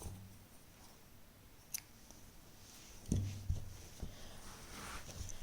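Scissors snip crochet thread while a small crochet dress for a Laddu Gopal idol is being finished, giving a few quiet, close cuts around the middle of an otherwise hushed stretch.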